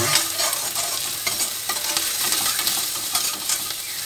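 Onions and spices fry in hot oil in a pan for karela curry, beginning to catch on the bottom, with loud continuous sizzling and repeated scraping stir strokes of a spoon, close up and with no talk.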